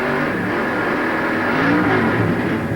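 A loud, sustained 2003 Winston Cup race car engine roar at Las Vegas holds at full throttle without easing off, close and continuous, with a slight rise in pitch toward the end.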